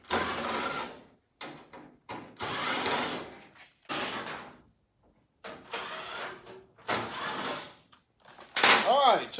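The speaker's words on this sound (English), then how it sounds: "We'll take our trusty nut driver here and back these out." A nut driver backs screws out of a NASCAR dash in repeated bursts of whirring and ratcheting, each lasting a second or two with pauses between, up close and fairly loud.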